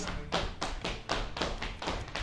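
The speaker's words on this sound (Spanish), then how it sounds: "Y esto se convierte en un zapateado básico para el folclore mexicano" Basic zapateado footwork from Mexican folk dance, where rapid rhythmic stamps and taps land on a hard floor in an even, close, steady pattern of about eight strikes with no talking.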